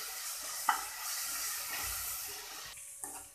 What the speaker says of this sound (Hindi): मैंने यहाँ पर हरी बारीक हरी मिर्च ली है, बारीक काटा है इसे, उसे अच्छे से भून लेते हैं इसके साथ।